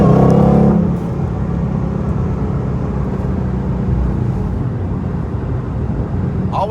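A Ford Shelby GT500 engine revs loud and close at the start, then settles into a steady, heavy rumble that runs to the end.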